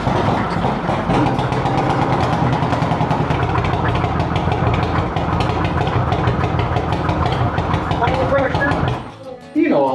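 A 1998 Harley-Davidson Springer Softail with a 127 cubic inch motor runs steadily close by, a dense low rumble with rapid firing pulses that cuts out abruptly near the end.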